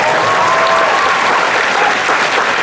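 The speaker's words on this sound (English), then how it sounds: "yes, let's applaud that vision." Audience at a Star Trek fan convention panel in 2013 breaks into loud, sustained applause, a dense wash of clapping that fills the whole stretch without pause, with faint crowd murmur underneath.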